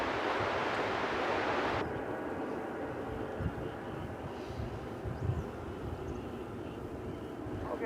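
American Airlines Boeing 737-800 at DFW Airport, a steady jet engine roar with a hissing high edge that cuts off early, leaving a lower rumble and wind buffeting, moderately loud.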